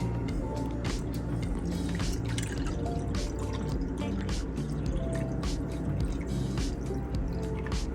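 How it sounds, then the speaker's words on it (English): Water poured into a measuring cup in a home kitchen while making Jamaican coconut drops, a continuous trickling fill dotted with splashy drips and small liquid squishes, close to the microphone. "mom is measuring 3 cups of water. This is 1 cup."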